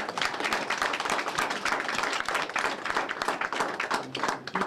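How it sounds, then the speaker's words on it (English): A crowd at the opening of a community teen center applauds the mayor, with dense, steady clapping from many hands that holds throughout. "Give Mr. Mayor a round of applause."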